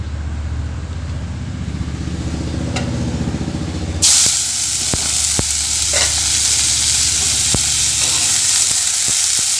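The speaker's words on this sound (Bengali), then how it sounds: "এইখানে এবার করলা ভাজাটা বসিয়ে দেবো।" Bitter gourd drops into a hot pan beside boiling rice, and the frying bursts into a loud, hissing sizzle that then settles into steady crackling with a few sharp clicks of the utensils.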